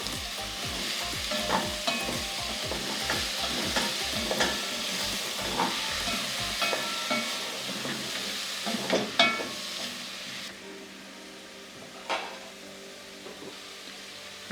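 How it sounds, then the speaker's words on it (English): Tomatoes stirred into a hot pan for beef brisket: loud sizzling and frying hiss with scraping stirs in the first half, then a softer steady sizzle with occasional clinks. "Now I'm adding some tomatoes. We'll mix this in."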